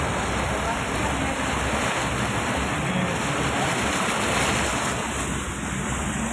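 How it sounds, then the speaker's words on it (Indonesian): Fast floodwater rushes past during a major flood at Kuala Simpang, Aceh, a dense, loud, unbroken roar of churning water and wind noise filling the whole stretch, without clear voices. "Deras sekali airnya."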